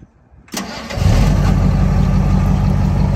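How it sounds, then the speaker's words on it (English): A truck engine is cranked with a portable jump starter. After a short quiet moment it turns over briefly, catches within half a second, and settles into a loud, steady running rumble. "So I'm gonna reach in here and we're gonna crank it"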